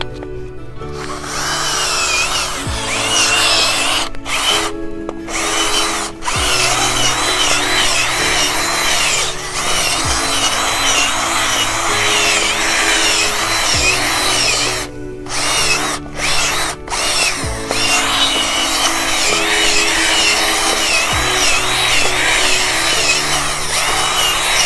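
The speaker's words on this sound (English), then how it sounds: "So after I drill my hole" A power drill bores a planting hole in garden soil for coneflower and sedum, running loud and close in several long bursts with brief pauses and shifts in motor pitch, and no talking.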